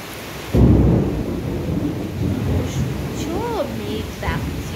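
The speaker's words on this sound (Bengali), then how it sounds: "মেঘ ডাকছে, মেঘ চমকাচ্ছে।" A deep roll of thunder breaks in suddenly and rumbles on through an overcast, rainy day. Birds chirp faintly in the background as it fades.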